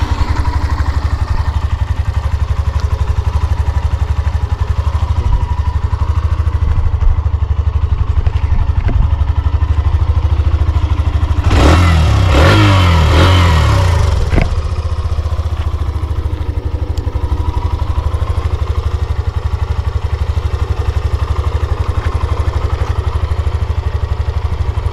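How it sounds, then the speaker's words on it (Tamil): A Hero Xtreme 125R ABS-variant motorcycle idles steadily with a low, even engine hum, then revs briefly and sharply midway before settling back to idle, close and alone without talk. "இன்ஜின் சவுண்ட் கேட்டிருப்பீங்க."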